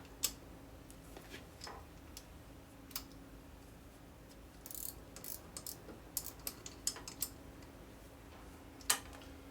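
A ratchet tightens a footboard bolt on a 2001 Gilroy Indian motorcycle under rebuild, heard as quiet scattered clicks and short bursts of ratcheting over a low steady shop hum.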